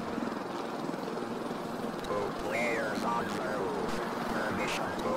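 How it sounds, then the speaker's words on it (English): Helicopter flying overhead in a horror video game, a steady rotor and engine drone under game sound effects, with a voice talking over it. "Oh, a helicopter."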